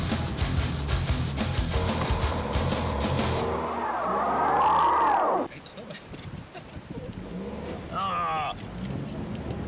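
Car sliding on snow with a long scraping skid into a snowbank during a heavy squall, ending in an abrupt drop, with a person talking over it.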